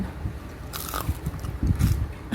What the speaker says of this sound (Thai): ฟังเสียงซี่กรอบมากเลย